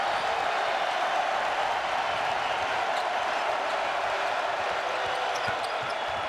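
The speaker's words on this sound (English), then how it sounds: "here comes the crowd." A crowd roars steadily through a women's college basketball arena during a Tennessee versus Mississippi game, with broad sustained cheering, a ball bouncing on the court and an announcer's voice faintly underneath.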